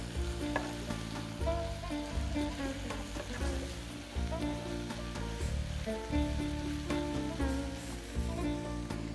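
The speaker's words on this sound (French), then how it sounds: "Je mets le feu vraiment très doux pour que les oignons ne brûlent pas." Onions cook slowly over very low heat in a pan for couscous tfaya, giving a soft, steady sizzle with intermittent stirring scrapes, fairly faint and without speech.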